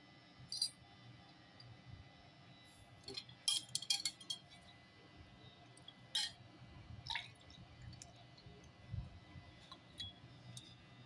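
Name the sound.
water dripping during Shiva lingam bathing ritual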